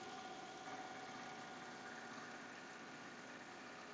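A Melco Summit embroidery machine stitches a mug rug, running at a steady speed with a continuous dense mechanical whir and buzz, close and unbroken.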